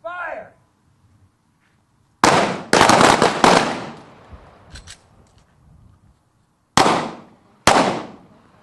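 Pistol shots are fired during strong-hand, weak-hand and malfunction handgun training at a shooting range. A brief shout comes first, then a rapid cluster of four loud, close shots, and two more single shots a few seconds apart.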